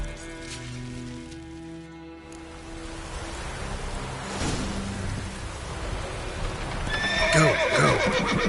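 Horse whinnying and clip-clopping hooves in the video game The Witcher 3, a neigh over a bed of rain and ambient score, with a brighter neigh swelling near the end.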